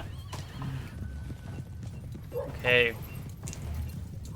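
Horse hooves clip-clop at a steady walking pace as a tabletop game sound effect, with a brief whinny partway through and a narrator talking over it.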